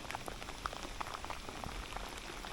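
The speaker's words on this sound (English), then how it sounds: "Rain will give them a bit of cover, maybe." Light rain patters on river water during a fishing match festival at Evesham, soft scattered drops ticking irregularly at close range with no talking.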